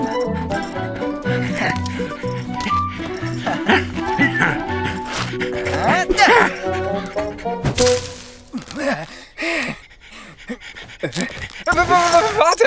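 A dog pants rapidly and loudly at close range, with whimpering sounds mixed in, while a person talks over it.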